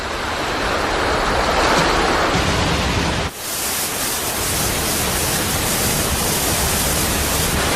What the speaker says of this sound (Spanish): El mar es bravo en estas costas solitarias y en ocasiones la fuerza de las olas arroja tal cantidad de maderos